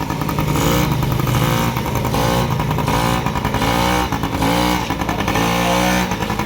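A motorcycle engine revving repeatedly during riding practice, loud and close, rising and falling in regular throttle bursts with a continuous droning rumble.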